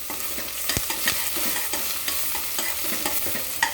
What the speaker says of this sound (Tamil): அதை இதில் போட்டு வெங்காயத்தோட நல்லா மிக்ஸ் பண்ணணும்